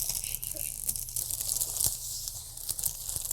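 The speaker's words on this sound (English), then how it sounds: "And last thing we need to do is just pull off all the different plastic." Protective plastic film is peeled off a new TCL QM6K TV, making close, crackly tearing and crinkling sounds that run continuously with a few sharper rips.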